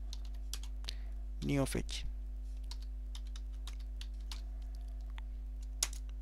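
Quick, light keystrokes type a terminal command on a computer keyboard, faint clicks scattered over a steady low hum, with someone talking briefly partway through.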